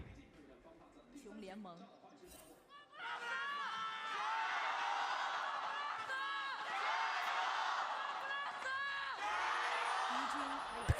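A packed esports arena crowd at an LPL Spring 2021 semifinal between EDG and FPX erupts into sustained cheering and shouting, a loud continuous roar that swells after a quieter opening with talk.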